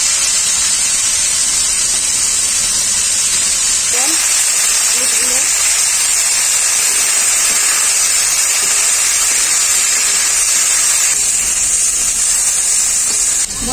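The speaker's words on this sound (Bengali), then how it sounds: "আর একটু সরষের তেল দিয়ে দেবো বরবটিটা ভাজার জন্য" Cut long beans fry in hot mustard oil in a wok, giving a loud, steady, close sizzle and hiss that runs unbroken throughout.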